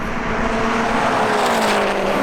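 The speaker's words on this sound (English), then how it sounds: "the WRX STI just manages to drive round Vicky in the hatch and beats her to the line by a bumper" A Subaru Impreza WRX STI and a Subaru Impreza hatchback racing to the finish line, engines roaring loud and steady at full throttle as the cars pass, with no voices.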